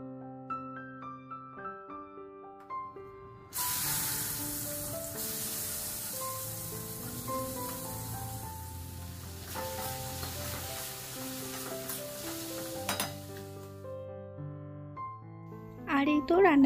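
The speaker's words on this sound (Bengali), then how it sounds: "ভেন্ডিটা ভেজে নিচ্ছে একদিকে" Okra (bhindi) fries in a pan with a loud, steady hissing sizzle that starts abruptly and runs for about ten seconds, with someone talking and faint background music over it.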